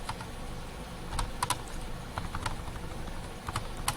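Computer keyboard keys typed at a desk, scattered sharp clicks arriving in short bursts with pauses between, moderately close over faint room hiss and no talking.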